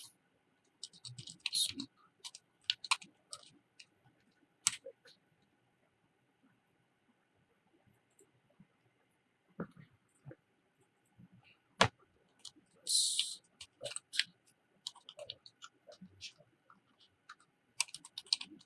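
Quick bursts of computer keyboard typing come in short clusters with quiet gaps between, close and fairly soft, with occasional sharper key clicks while someone jots down currency trading notes.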